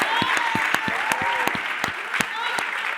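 Scattered applause from an audience at a discussion panel, a sparse crowd clapping in quick irregular claps, with a voice faintly underneath.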